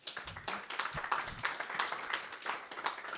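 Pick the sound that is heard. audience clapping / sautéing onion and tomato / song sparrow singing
audience clapping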